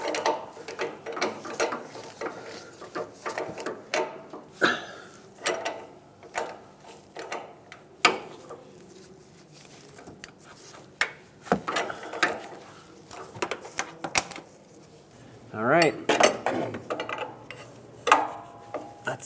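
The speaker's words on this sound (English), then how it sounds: "Now with our O2 sensor socket on here, let's go ahead and tighten this up." A ratchet wrench with an O2 sensor socket tightens an oxygen sensor on the catalytic converter of a 1998-2002 Lincoln Navigator, giving repeated close, crisp clicking bursts in uneven runs with short pauses between strokes.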